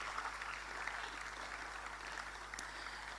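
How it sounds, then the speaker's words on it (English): Steady applause from an audience at an engineering conference in Ghana, a dense wash of clapping that is fairly distant and even throughout, with a constant low hum underneath and no talk. "Give Solace another round of applause."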